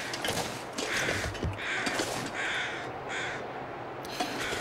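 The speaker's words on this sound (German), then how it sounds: "Und Krähen gibt es hier auch noch." Crows in the game The Long Dark caw repeatedly in a loose series of harsh calls over a steady outdoor wind bed, fairly near and with no talk.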